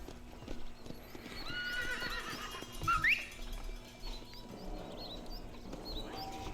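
A horse in the Red Dead Redemption video game galloping with rapid clip-clop hoofbeats and giving a sharp, loud whinny midway, with game ambience and faint bird chirps underneath.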